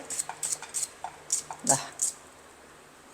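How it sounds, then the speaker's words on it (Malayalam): A knife slices onions into thin rounds on a board with about seven crisp, evenly spaced cuts, close by and fairly quiet, then it falls silent. "ഇങ്ങനെ വട്ടത്തിൽ ഉള്ളി അരിഞ്ഞു വെക്കാം"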